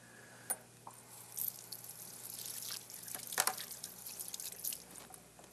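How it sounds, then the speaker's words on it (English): Cold tap water runs over artichokes in a kitchen sink, making a soft continuous flow broken by scattered drips and sharper splashes, moderately close, with no talking. "Take them over to the sink here and run a little cold water over them."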